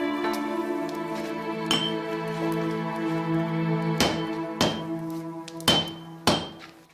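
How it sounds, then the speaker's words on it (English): Heated steel is hammered while forging a samurai sword: sharp, ringing metallic blows land at uneven intervals over a faint steady hum, with the strikes growing louder toward the end. "Heating softens the steel for hammering so that the pieces can be formed into one."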